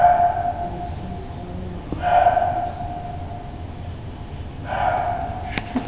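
A recorded roe deer call: two or three short, hoarse bark-like snorts separated by pauses, fairly loud and close, with no talk.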